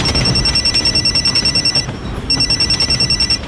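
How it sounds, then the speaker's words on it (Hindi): A phone rings in a horror audio story, a steady electronic trill in short, even pulses that stops briefly midway and then resumes, loud and close with no one speaking. "थोड़ी देर में मेरा फोन बजा।"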